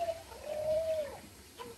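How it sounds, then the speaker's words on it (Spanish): A Barbary dove, also called ringneck or collared dove, gives a soft, close, drawn-out coo in a quiet setting, with faint background hiss and no voices. "Hay países que a esta le llaman tórtola risueña, mientras que hay otros donde le dicen tórtola de collar"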